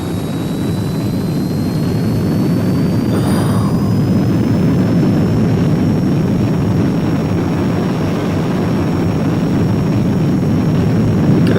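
Heinkel He 162 jet aircraft engine at full power during a climb, a steady, loud, broadband roar with a faint high whine, continuous and unchanging throughout, no voices.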